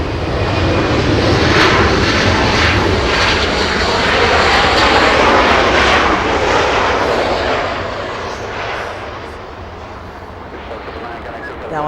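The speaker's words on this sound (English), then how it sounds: "we have a WestJet arrival" A WestJet airliner coming in from Calgary to land at Los Angeles International Airport, its loud, steady engine roar filling the air near and then slowly fading, with people talking over it.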